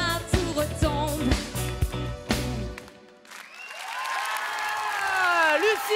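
An audience on a French TV fan show applauds and cheers for a finalist, the crowd noise rising after music ends and a voice talks over it.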